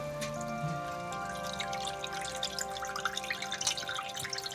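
Dried fenugreek leaves being rinsed in water, with steady dripping and trickling splashes and small bursts of pouring water running continuously at close range, no voices.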